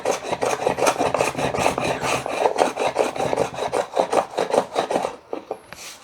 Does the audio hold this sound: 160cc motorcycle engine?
no